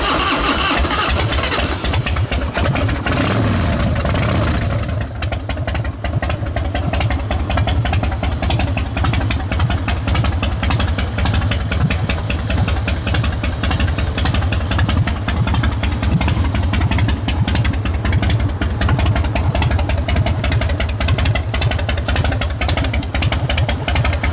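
A carbureted 2005 Harley-Davidson Dyna with a 96-inch engine and cams cranks and fires on a hot day without choke, then settles into a loud, lumpy, rhythmic V-twin idle that pulses steadily close by.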